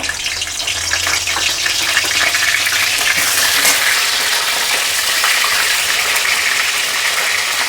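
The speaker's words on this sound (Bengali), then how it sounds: "তো আমার মাছের মাথা ভাজা হয়ে গেছে" Fish heads fry in hot mustard oil with a loud, dense, continuous crackling sizzle that holds without a break.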